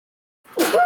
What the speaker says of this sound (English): I finally got my third sneeze.